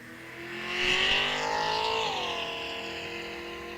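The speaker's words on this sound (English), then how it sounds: "Cougar's car is extremely loud" A street car running in a drag race at a bracket-series event, its engine loud and rising through the run, rumbling strongly before easing off.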